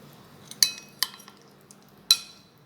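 Utensil stirring paneer slices coated in maida in a pan, a few sharp metallic clinks and scrapes spaced irregularly over a quiet background.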